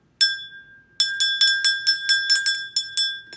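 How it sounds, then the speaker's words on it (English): A small hand bell rings in a quick series of bright, clear strikes, one opening tone followed by about a dozen rapid dings with ringing overtones, close and loud, with no voices. "Let me ring my bell."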